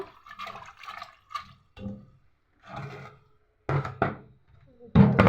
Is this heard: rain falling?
no